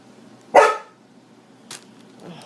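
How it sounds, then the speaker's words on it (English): A single sharp dog bark close by, followed by a fainter bark about a second later in a quiet room. "he could be barking"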